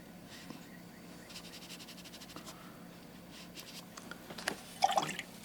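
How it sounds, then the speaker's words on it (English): Watercolor brush rinsed in a container of clean water gives soft, faint swishing and dripping, a few quiet liquid splashes building toward the end, close by and alone. "we dry off the brush, rinse it off in clean water, dry off the brush"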